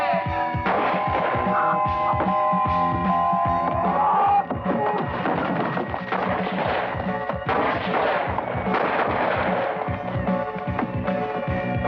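Gunshots in a 1982 action film scene: repeated rapid bursts of gunfire, loud and dense, mixed with dramatic orchestral music throughout, no clear talk.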